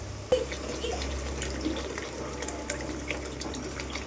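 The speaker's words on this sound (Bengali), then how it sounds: "এইবার এটাই আমি জল দিয়ে একটু সিদ্ধ করতে দেবো।" Water pours into a cooking pot to boil for egg chicken tarka: a sudden splash, then a steady gushing fill running for about four seconds, with no voices.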